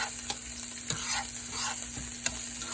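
Onions sautéing in beef drippings for a stew beef gravy base, a steady close sizzle with a few sharp scraping stirs of the pan, no voices.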